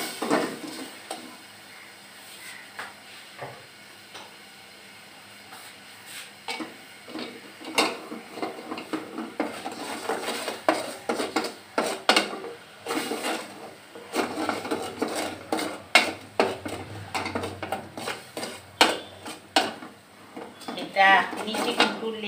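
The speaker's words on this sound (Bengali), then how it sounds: "আমি বেশ করে নেড়ে দিচ্ছি" A spoon stirs a puffed rice mixture in a pan over a medium flame, giving irregular scraping and knocking strokes that grow busier and louder partway through, with a faint sizzle and a voice talking at times.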